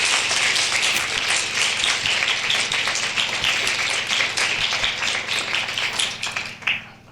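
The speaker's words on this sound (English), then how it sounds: "A round of applause for all of them." Sustained audience applause at an evening event in Oakland, dense and fairly loud with many overlapping claps, tapering off near the end.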